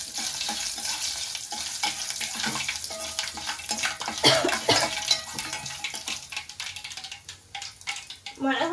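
Mustard seeds, cumin and dried red chillies crackling and sizzling in hot oil in a pan, a busy spattering hiss with small pops rising and falling in intensity, heard close and without talk.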